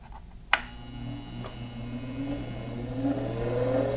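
A small Harbor Freight bench grinder hums as it spins up after a sharp click, its whining tone rising and settling into a steady, fairly quiet whir.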